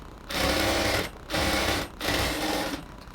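Sewing machine stitching a ladies' pant in three quick bursts of loud, close, rapid mechanical whirring separated by short pauses, with no talking.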